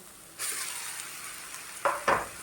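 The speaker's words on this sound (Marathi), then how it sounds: "बारीक गॅस करून परतून घेऊया आता आपण आता शिजवून घेतलेला भात टाकूया" Leftover cooked rice tossed into a pan with raw mango over low heat, a soft sizzle rising suddenly, then two short, louder scraping stirs of a spatula near the end.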